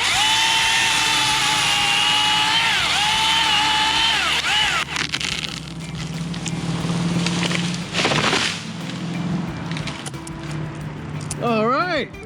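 A battery-powered saw bites into wood during a back cut on tree roots, its motor whining steadily and then dropping into rougher, uneven cutting noise, with a brief voice-like warble near the end.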